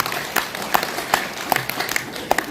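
At a book launch concert, an audience gives a round of encouraging applause, a lively patter of many hands with a few sharper individual claps standing out near the front.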